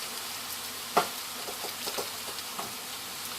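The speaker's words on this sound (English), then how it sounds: "If you have the oil really hot, they crisp up quickly and not so much gets absorbed into the noodle" Noodles crisping in very hot oil for chow mein, a steady soft sizzle broken by a sharp clatter near the start and a few lighter stirring knocks, heard close with no talking.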